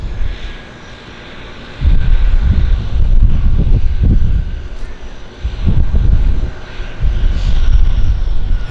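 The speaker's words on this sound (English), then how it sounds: "Another Twin Otter departure for us. I love that sound." A de Havilland Twin Otter floatplane departs from a downtown Vancouver harbour, its turboprop engines giving a loud, steady, low roar that swells and surges as it takes off. The sound is close, with no voices over it.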